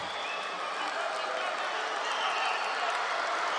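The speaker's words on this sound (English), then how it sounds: "Well, that brought the crowd to life here." Judo spectators at a Grand Slam tournament in Baku break into sustained applause, a dense steady wash of clapping filling the hall for several seconds with no pause.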